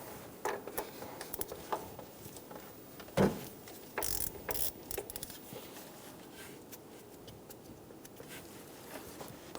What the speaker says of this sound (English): Using a 19mm socket, remove the power steering pressure switch.